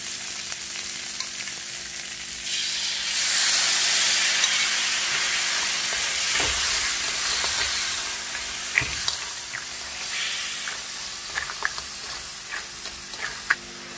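Tamarind sauce hits a hot pan of fried small brackish crabs, bringing a rising sizzle that settles into steady frying, with occasional clicks of stirring toward the end.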